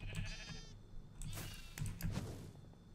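Sheep bleating in the Minecraft video game, several short close bleats scattered over a few seconds, mixed with faint game clatter.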